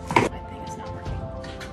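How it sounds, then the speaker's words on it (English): A cat scratches and digs in its litter box at home, giving one short, fairly close burst of gritty scraping, followed by faint rustling under a steady low hum. "I'm sorry if you can hear my cat using the litter box right now."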